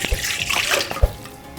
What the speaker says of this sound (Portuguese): Numa tigela eu vou adicionar a água